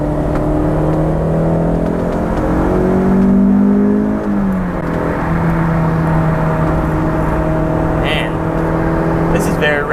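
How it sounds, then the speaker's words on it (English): Steady roaring rush of wind and road noise around a moving open-top Honda S2000, engine droning and shifting pitch beneath, loud and continuous throughout. "As you can hear, the wind noise, not favorable."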